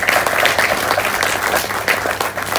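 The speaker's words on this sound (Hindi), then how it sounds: "एक बार मैं चाहता हूं जोरदार तालियां बजाइए।" An audience at a business seminar breaks into loud, dense applause, many hands clapping steadily in a room for a few seconds with no speech over it.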